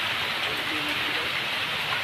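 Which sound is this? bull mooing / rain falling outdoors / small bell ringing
rain falling outdoors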